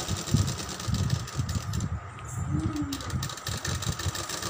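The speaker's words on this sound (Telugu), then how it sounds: "ఇప్పుడు నేను నైటీ ఉంటే దానికి పైకుట్లు వేస్తున్నాను" A sewing machine top-stitches a nightie, running in short bursts with steady stitching clatter, close and moderately quiet, with pauses between runs.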